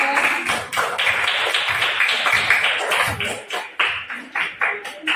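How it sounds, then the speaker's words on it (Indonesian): Classroom applause for a student group: many students clapping in a dense, lively burst close by that thins into scattered claps toward the end. "Beri tepuk tangan untuk kelompok 2"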